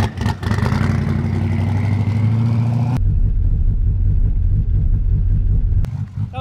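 A drag race car, a 1JZ Foxbody or twin-turbo LS HR Holden, rumbles loudly at close range on a no-prep street strip, with a sharp cut near the middle and a brief clack near the end.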